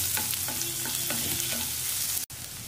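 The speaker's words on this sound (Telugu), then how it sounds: "ఒక స్పూన్ అల్లం వెల్లుల్లి పేస్ట్. పచ్చివాసన పోయే వరకు వేసుకోవాలండి." Ginger garlic paste frying in a pan for a tomato egg curry, giving a steady close sizzle with soft stirring scrapes, alone, broken by a brief cut near the end.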